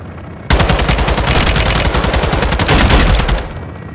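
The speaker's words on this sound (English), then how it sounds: "Taking belt fed fire from beneath the tower." Sustained belt-fed machine gun fire in Call of Duty Modern Warfare 2, a loud, dense, rapid stream of shots starting abruptly and running for about three seconds before easing off.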